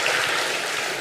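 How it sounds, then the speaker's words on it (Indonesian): Applause from a crowd at a Christmas gathering, a steady dense clatter of clapping hands filling the short moment without pause. "Tepuk tangan ini buat para asosiasi yang ada"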